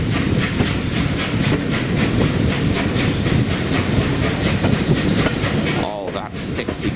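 Spa Valley Railway steam locomotive working hard, a steady rapid exhaust beat chuffing over continuous rolling rail noise and hiss, loud and close, easing off near the end.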